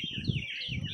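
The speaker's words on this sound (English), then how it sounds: "these birds sound amazing" Birds sing outdoors in a brief, steady stretch of chirping and warbling, fairly clear over a low background rumble.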